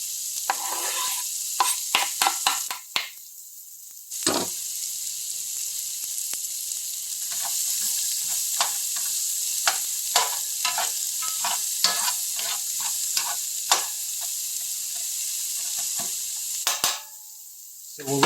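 Vegetables frying in bacon grease in a pan: a loud, steady hiss of sizzling fat with repeated scraping and stirring clatters throughout, including a few brief pauses where the sizzle drops out.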